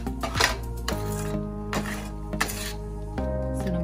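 Brown sugar goes into semolina in a pan for mango kesari, with a few clinks and scrapes of a spoon against the metal pan over a steady low hum and no talk.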